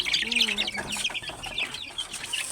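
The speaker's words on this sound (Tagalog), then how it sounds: "Dami ng manok." Native and broiler chickens on a farm cluck and chirp close by in short busy bursts, with some wing flapping and faint chatter around them.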